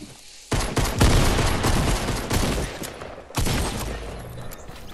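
Burst-rifle gunfire in the Fortnite battle royale game, several loud close bursts of rapid shots with abrupt onsets, separated by brief lulls, with no talking.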